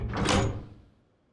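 A magnetically sealed sliding door aboard a S.H.I.E.L.D. facility shuts with one loud, close, heavy whoosh and thunk that fades over about a second, with no talking.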